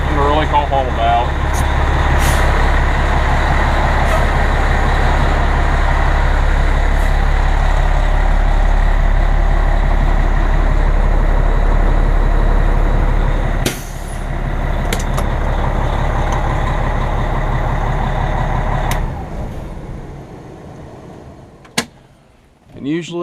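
A fire truck idles at the station with a steady, loud low diesel rumble for most of the clip, briefly dipping once, then shutting off near the end, followed by a couple of sharp clicks or clunks.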